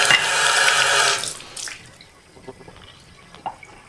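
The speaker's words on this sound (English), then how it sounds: "rinse out the water dish. Make sure all the sand and poop is out of it." Tap water runs loudly into a lizard's water dish as it is rinsed, then shuts off, leaving scattered drips and small splashes alone in a quiet room.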